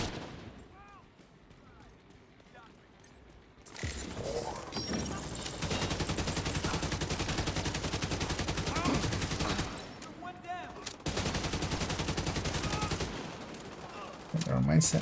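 Rapid, sustained automatic gunfire crackles in a video game firefight, two long loud bursts after a quieter opening, with faint voices in the quieter stretches.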